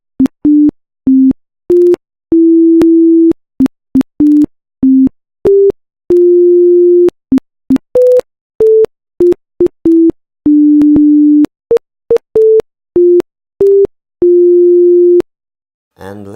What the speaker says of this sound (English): I have pasted here the happy birthday melody.